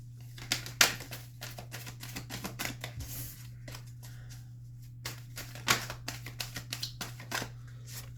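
A deck of oracle cards is cut and handled at close range, with quick bursts of crisp papery flicks and taps, denser in a few flurries, over a steady low hum and no speech.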